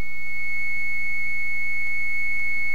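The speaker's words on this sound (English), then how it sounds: "If we were to tap into the line, we would hear a sound like this." A 2200 Hz modem sine tone on a telephone line, heard as one steady, loud, unbroken high-pitched whistle with a faint hum beneath, alone with no speech.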